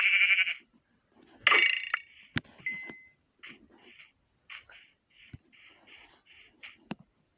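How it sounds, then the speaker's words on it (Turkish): Minecraft sheep bleat in a video game, a series of short, nasal, wavering calls repeated in irregular bursts, close and clear with no talk. "Bir koyun görmüşler."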